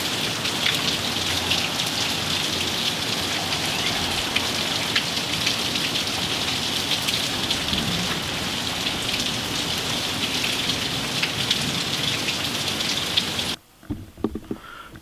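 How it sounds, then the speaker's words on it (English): Steady, heavy rain from Hurricane Matthew pours down with no wind in a dense, continuous patter for a long stretch, then abruptly cuts to quieter scattered drips. "There's no wind, it's just rain."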